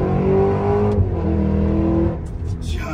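A 6.2 liter supercharged V8 revs loud and close with a steady, growling harmonic tone, then the pitch drops as the revs fall away and the engine settles into a lower rumble.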